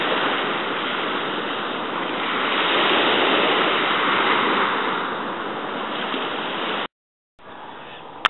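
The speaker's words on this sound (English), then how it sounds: "I'm just going to let this roll so you can enjoy the waves." Ocean surf off Kamehameha Highway near Goat Island in Hawaii: a loud, continuous roar of waves washing ashore, swelling slightly in the middle, cutting out briefly near the end and then returning.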